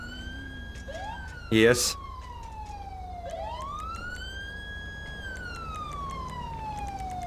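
A police car siren wails in long rising and falling sweeps during a highway traffic stop, steady and fairly loud throughout, while someone speaks briefly over it.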